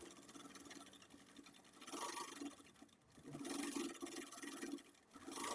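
A sewing machine runs double stitching along a lace-trimmed blouse in quick bursts, a faint steady whirring that speeds up and slows down, with no talking.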